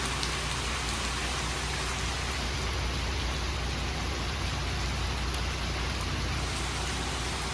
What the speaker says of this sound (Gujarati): વરસાદ તો જો મિત્રો